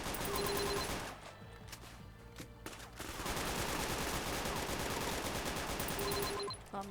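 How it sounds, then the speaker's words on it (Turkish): In a prison roleplay video game, guns fire in dense, rapid bursts that run almost without a break, loud and close. One short lull comes before the shooting resumes. "yerden kalkmasın diye sıkıyorum"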